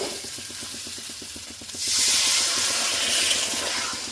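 Water poured into a hot pan of fried potatoes with poppy seeds, a rhythmic bubbling sizzle that suddenly swells into a loud, broad hissing burst of steam lasting a couple of seconds, close up.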